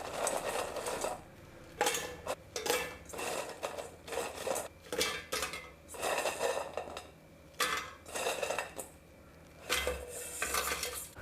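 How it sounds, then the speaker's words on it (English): Fried chana dal pakodis tipped into a dry blender jar, with repeated close clatters and clinks of the crunchy fritters and utensils striking the jar in irregular bursts, no talking. "So I'm going to transfer this into my dry blender jar."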